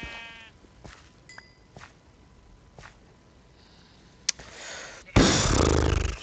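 Sheep bleating in Minecraft with the Feed The Beast modpack, a few short game bleats spaced apart among clicks and thuds, ending in a loud burst of noise.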